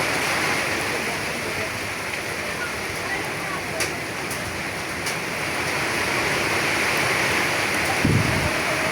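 Heavy rain falls in Kabirpur, Dhaka, a constant loud wash of water hitting surfaces, with a few faint knocks and a low thump near the end.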